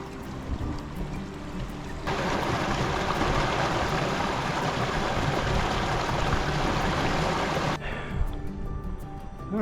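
Creek water rushing steadily as the outflow of Sawtooth Lake in the Sawtooth Wilderness runs down toward Liddler Lake, a broad, loud, continuous wash that swells after a quieter opening and eases slightly near the end.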